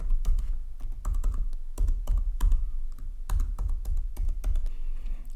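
Someone types a password on a MacBook keyboard, a quick close series of light key clicks in short uneven bursts with brief pauses between.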